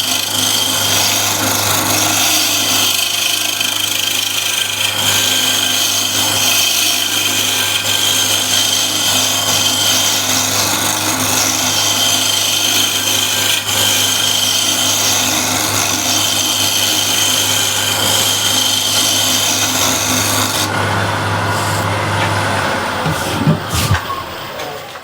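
Hard wood turning on a lathe under a scraping tool, a loud, steady, continuous rasping whir with a constant motor hum that runs for most of the stretch before the cutting stops and the spindle winds down near the end.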